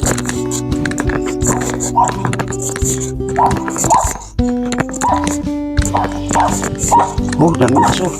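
Several dogs bark and yip in bursts at close range, with people talking over the commotion.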